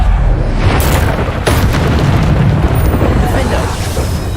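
The Depulso force spell in Hogwarts Legacy lands with a loud, booming impact wash, dense and continuous, with sharp bursts around the middle, heavy in the low end.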